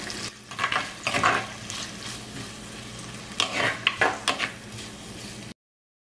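Green chili, garlic and ginger sauté in a pan for Sri Lankan crab curry, a soft sizzle under loud, uneven stirring strokes of a spoon against the pot, then sudden silence.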